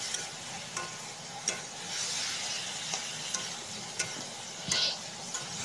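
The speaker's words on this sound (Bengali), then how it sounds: "তো নেড়ে নেড়ে আমি ভাজা করে নেব" Ginger-garlic masala stir-fried in a pan, a steady moderate sizzle broken by sharp spatula scrapes and clicks at irregular intervals, with a brief hissing burst near the end; no talking.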